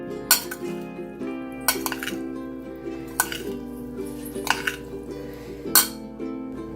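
Spicy pasta salad stirred in a bowl with chaat masala, chili powder, salt and lemon juice, a spoon knocking and clinking against the dish in scattered sharp taps over a soft, wet mixing sound.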